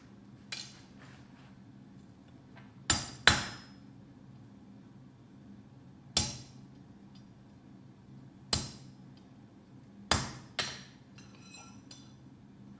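A blacksmith hammers a punch into heated metal while forging a Viking pendant: sharp ringing strikes, some in quick doubles, spaced a few seconds apart over a low steady hum.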